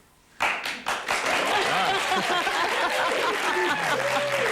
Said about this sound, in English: You know I'm in America when that gets a round of applause.